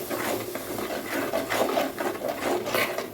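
Ground masala paste of garlic, tomato and small onions being stirred into a fish curry in a pan, a continuous soft scraping and rubbing of the spoon with faint sizzling, close and steady.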